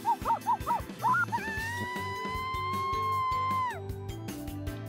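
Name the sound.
dog barking in a video game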